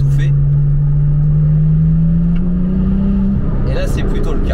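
A Porsche 996 RTS3 turbo engine drones loud and close from inside the car while driving, a muffled, steady tone rising gradually before easing off, with a voice talking over it.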